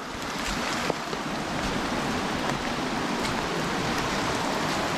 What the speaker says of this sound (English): The creek definitely looks higher.